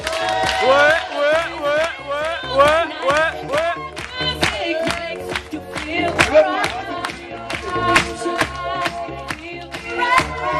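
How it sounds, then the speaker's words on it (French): A holiday club audience at Club Lookéa Samana claps and cheers for the sports leader, dense rapid clapping mixed with loud shouts and whoops throughout. "Applaudissements pour votre chef de sport, Miss Aurélie."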